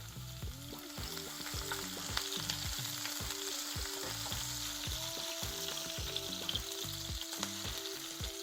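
Garlic and green chillies frying in oil in a pan for a Tamil prawn puttu, a steady close sizzle throughout with a faint musical backing underneath.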